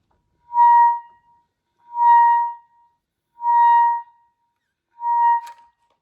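Four separate tongued high notes on a clarinet, evenly spaced and held briefly, each clean and bright, played alone without talking.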